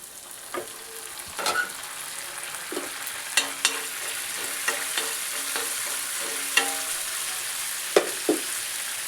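Pav bhaji cooking in a pan, street-style, with a steady low sizzle and repeated scraping, knocking stirs of a spoon against the pan at irregular intervals, close up with no talking.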